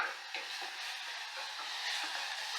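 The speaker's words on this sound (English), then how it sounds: "make sure I'm stirring that every so often and make sure I'm not burning my onions" Onions frying in a pan for chili and enchiladas, giving a steady, close sizzle with faint scraping and stirring noises throughout and no one talking.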